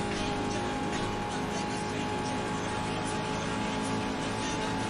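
Race car engine of a GT1 car in the GRID racing game, a dense steady roar holding at high revs for the whole stretch with no letup, loud and close throughout, accompanied by faint background game sounds.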